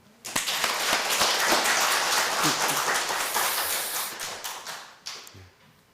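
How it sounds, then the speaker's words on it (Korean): Congregation applause rings out in a church during a Sunday worship service, dense and sustained for several seconds before thinning into scattered claps and fading. "박수 한번"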